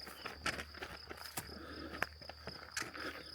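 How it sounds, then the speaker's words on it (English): Crickets chirp steadily in a quiet rural property in central Portugal, a soft continuous trill with occasional louder pulses, no voices present. "Only you can hear is the crickets"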